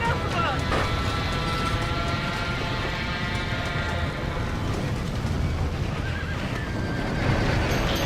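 Frightened horses neigh and whinny inside a burning barn in the Red Dead Redemption video game, their cries repeating over crackling chaos while people shout urgently nearby.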